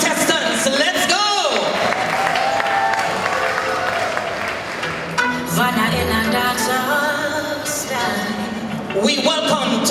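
Crowd at a festival queen pageant applauding and cheering the contestants, a full wash of clapping with a host's voice and music carrying over it.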